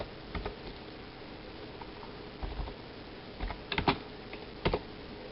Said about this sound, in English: If I type the command correctly,